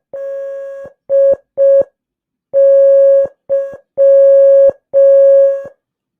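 Morse code beeps sound as a loud, clean, steady tone broken into long and short pulses, seven in a row with brief gaps between them.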